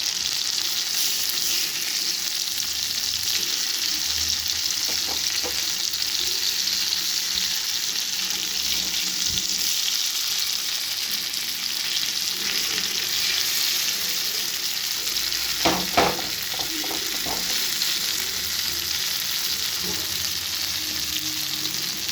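Pieces of spice-coated tullu fish fry steadily in a pan with a continuous close sizzle. A few clatters and scrapes come as each fish is turned over, with no voices.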